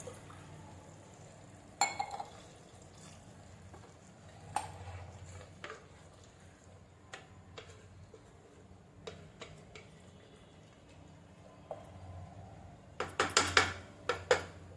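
Water is poured over rice in a pressure cooker for vegetable biryani, a faint liquid trickle under scattered clinks of a cup against the metal pot and a burst of rattling near the end.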